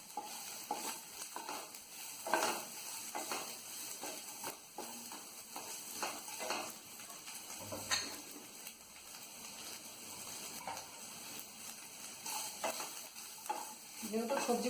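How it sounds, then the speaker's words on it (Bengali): Grated coconut and sugar fry in a pan with a soft, steady sizzle, broken by repeated light scrapes and taps of stirring, all quiet and close with no talk. "চিনি দিয়ে আরও কিছুক্ষণ ভেজে নেব।"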